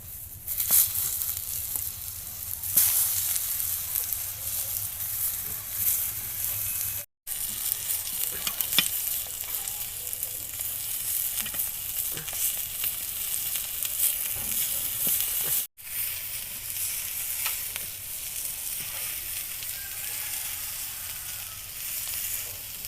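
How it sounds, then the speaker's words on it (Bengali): Eggplant slices spiced for masala begun bhaja fry in hot oil, a steady close sizzle and bubbling with scattered crackles and stirring sounds, broken by two brief silences. "তা গরম হয়ে গেছে এবার এক এক করে বেগুনগুলোকে ছেড়ে দেবো"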